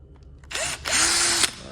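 A power drill with a drill bit works on an A-frame metal sign, revving up in two short close bursts with a rising then steady whine, quiet shop background between.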